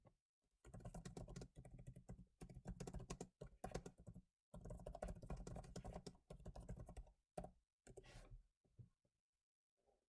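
Answer text is typed into an online course assignment on a computer keyboard, with rapid bursts of keystrokes separated by short pauses, close but quiet, with no voices.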